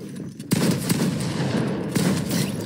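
Rapid bursts of gunfire from a video game, with a loud volley starting about half a second in and sustained shots continuing throughout, sharp and up close.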